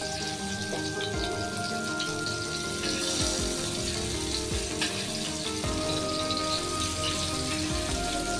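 Tiger prawns fry in a pan, giving a steady, close sizzle with dense crackling and popping that runs unbroken throughout, with no one talking.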